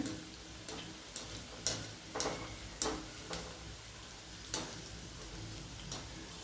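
Wheat-flour modak dumplings frying in oil over a low gas flame, a soft steady sizzle broken by irregular crisp pops and ticks.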